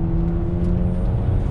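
A Tesla Model 3 Performance accelerates hard on a race track, with a loud steady electric motor whine and a deep rumble of tyres and road noise heard from inside the car.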